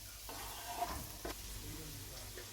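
Chopped onions and garlic frying in oil for Portuguese pork chops, a steady soft sizzle with a few stirring scrapes, fairly quiet and unbroken.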